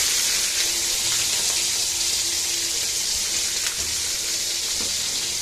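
Whole garlic cloves, green chillies and chopped onion sizzle loudly in hot tempering oil, a dense, steady, close frying hiss that holds evenly from start to finish.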